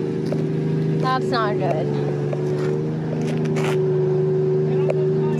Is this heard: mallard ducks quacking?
no